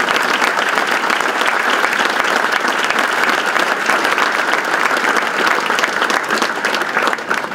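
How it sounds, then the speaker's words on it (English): A crowd applauds steadily, dense clapping sustained at full strength throughout, tapering slightly at the very end. "If you guys could please, round of applause."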